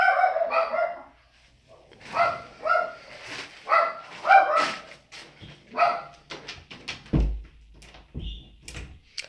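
Several dogs barking frantically indoors, loud bursts of barks and yips recurring through the stretch, with a door sound and some low thumps toward the end.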